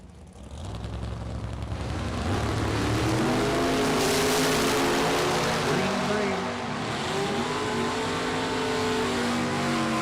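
A Charger and a Corvette drag race car rev and accelerate hard at a Super Pro drag racing event, with loud engine tones climbing in pitch together and a roaring wash that swells and holds, and an announcer speaking underneath.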